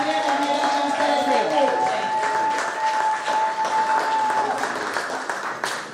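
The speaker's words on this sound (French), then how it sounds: "on acclame et on applaudit pour la gloire de Dieu" A wedding congregation applauding in church, with sustained, dense clapping and cheering along with a steady sung or held tone, fading slightly toward the end.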